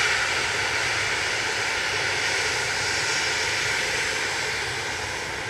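A TUI Boeing 737-800 taking off at Manchester Airport roars with a broad, steady jet rumble. The sound stays loud and constant from start to finish, heard from a distance with no one talking.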